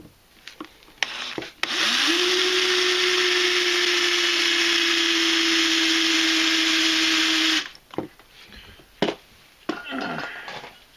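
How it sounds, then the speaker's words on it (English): A power drill with a 3/8-inch bit whines steadily for several seconds as it bores through the side of an MTD FNR transaxle, with scraping and handling clatter before and after. "a 3/8 drill bit is going to be the best idea"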